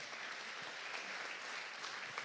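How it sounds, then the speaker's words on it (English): An audience in a conference hall gives a short burst of steady applause, many hands clapping at moderate distance with no voices over it. "Give a big applause."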